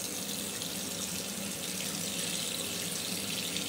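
Tap water running steadily into a bathroom sink for rinsing during a shave, a soft continuous splashing stream with no voices.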